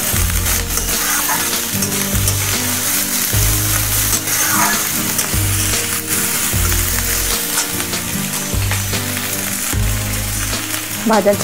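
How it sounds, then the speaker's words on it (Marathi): Vegetables and spring onions stir-fried on a high flame for restaurant-style egg fried rice, heard as a loud continuous sizzle and hiss with scraping tosses, under steady background music. "थोडीशी कांद्याची पात, भाज्या मोठ्या गॅसवरती छान अशा परतून घ्यायच्या आहेत"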